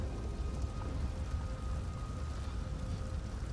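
Rain in The Elder Scrolls Online, a steady close hiss of falling drops with a faint tonal hum underneath, constant and without speech.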